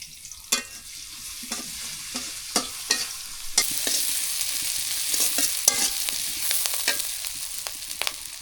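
Chillies and onion frying in plenty of mustard oil, a steady sizzle with repeated sharp scrapes of a spatula stirring the pan, close and fairly loud throughout.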